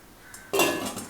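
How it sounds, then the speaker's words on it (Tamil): A metal lid is set down onto a pot of crab cooking for a white crab kurma, a single close, bright clank with a short ringing tail after quieter kitchen clinks. "இப்போ இந்த நண்டை மூடி வச்சிடலாம்"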